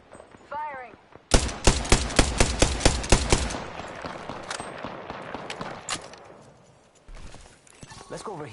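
Gunfire rattles in Apex Legends: a rapid burst of loud, evenly spaced shots, then scattered quieter reports and impacts, with players talking before and after.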